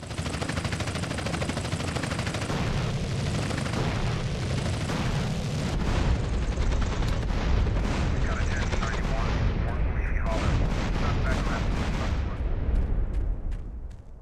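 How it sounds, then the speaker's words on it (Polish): Loud GTA San Andreas explosions and gunfire roar continuously, with booming blasts and rattling bursts layered over a voice speaking underneath. "No chyba coś tutaj wybuchło, co nie?"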